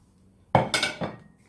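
A spoon clanks against a pan while keema and chickpeas are mixed with spices: three close metallic knocks in quick succession, then quiet.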